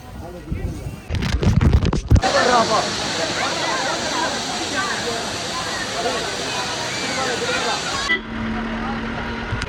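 Agathiyar waterfall at Papanasam pours in a dense, steady roar that fills the middle of the clip and ends abruptly, with voices and bustle of people around it.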